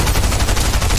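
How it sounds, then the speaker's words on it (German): Rapid volley of shotgun blasts in the video game Fortnite, loud and close, several shots in quick succession with no talk over them. "So viele Shotgun-Schüsse."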